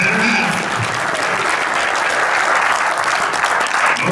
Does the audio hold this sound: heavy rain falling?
no